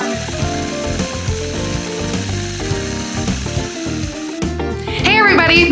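A sewing machine quilting a T-shirt quilt, stitching with a fast, even mechanical chatter that stays up close and loud, with a short burst of higher rattling toward the end.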